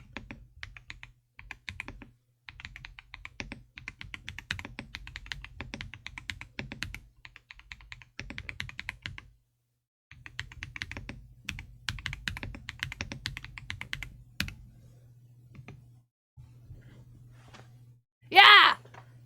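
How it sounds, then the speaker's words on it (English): Rapid clicking of a computer keyboard being typed on, steady bursts of keystrokes close to the microphone with a low hum beneath, a short pause midway, and a sharp brief sound near the end. "It makes really nice keyboard sounds."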